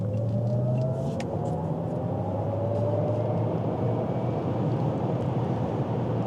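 Cadillac LYRIQ electric car accelerating in sport mode, a steady loud roar of road and wind noise heard from inside the cabin with a faint rising whine.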